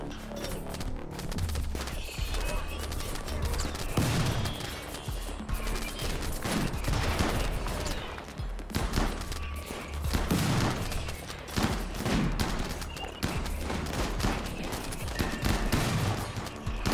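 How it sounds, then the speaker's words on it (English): Rocket launcher fire in the Rimworld video game comes as dense, continuous volleys of explosive shots and blasts that keep up loudly throughout. "One rocket launcher's fire."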